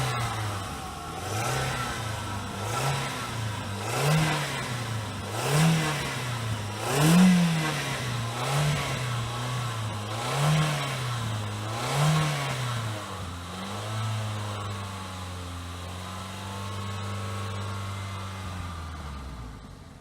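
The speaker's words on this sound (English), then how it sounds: "Now we're gonna go ahead and rev it and go." A car engine being revved repeatedly during an intake cleaning with Gumout, rising and falling in regular pulses about every second and a half before settling into a steady idle; close and loud, with no talk.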